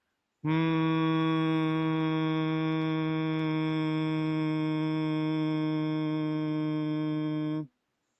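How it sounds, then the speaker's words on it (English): A person hums one long, steady, low tone on an exhale during Bhramari breathing, sustained evenly for several seconds before stopping abruptly. "breathing out, make a humming sound like this"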